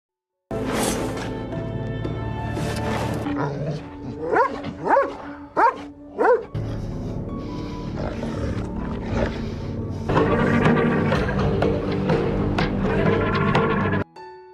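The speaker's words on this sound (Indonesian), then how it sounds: "Melihat jasad si wanita dimakan serigala, Virgil pun tak tega" Wolves eating a body in the film Gold snarl, growl and yelp over a continuous background of music or ambience. The loud, layered animal sounds come in bursts and end abruptly.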